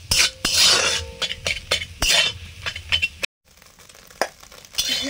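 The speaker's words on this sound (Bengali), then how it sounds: "একসঙ্গে 6-7টা ডিম নিয়ে ভেজে নিচ্ছি" Six or seven eggs frying together in an iron wok: loud crackling sizzle broken by repeated scraping and metallic stirring clanks, a short silent gap, then quieter sizzling and a few more clinks.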